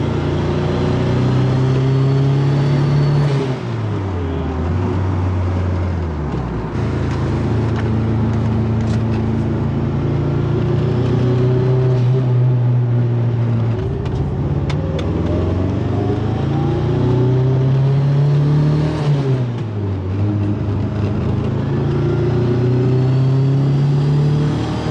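A Mitsubishi Evo car driving and revving, its engine note rising and falling through repeated pulls and gear changes, loud and close throughout with no talking.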